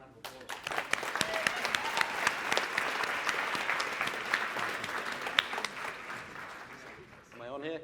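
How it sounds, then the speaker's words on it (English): An audience at a university symposium on movement and mind breaks into sustained applause, dense clapping that peaks early and tapers off toward the end, with a voice briefly heard as it fades. "Let's give these guys a round of applause"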